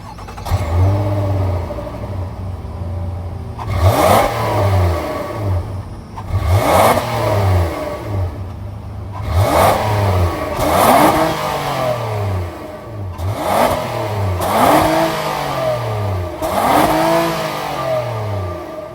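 A 2024 Nissan Murano's 3.5-liter VQ V6 engine revs repeatedly, about six rising and falling vroom pulls over a steady idle, loud and close.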